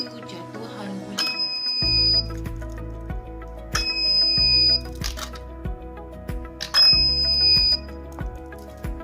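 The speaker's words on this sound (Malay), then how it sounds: "Satu bunyi buzzer bermaksud satu jatuhan buli." A buzzer sounds three times at even spacing as marbles drop in a counting apparatus, each sharp electronic tone standing over a low rattle and clatter of the falling marbles.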